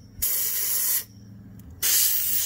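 Compressed-air spray blasting debris off an EGO 56-volt cordless mower deck, two loud sustained hissing bursts separated by a short pause, close to the microphone with no talking.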